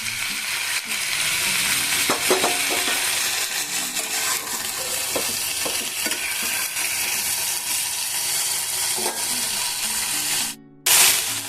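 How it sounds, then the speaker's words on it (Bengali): Potatoes and mixed vegetables fry in a pan with a steady, close sizzle, stirred now and then with scraping clicks, running throughout before a brief near-silent break near the end. "দেখুন এখন এগুলো বেশ ভাজা হচ্ছে"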